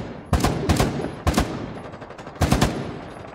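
Short, sharp bursts of rapid automatic gunfire from a mounted turret in Rainbow Six Siege, three close, loud volleys separated by brief pauses with echoing tails.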